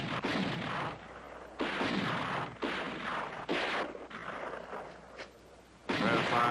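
Artillery cannons firing in a 1970 war western, with a series of loud, booming blasts, each followed by a rumbling decay, spaced about a second apart, with no talk.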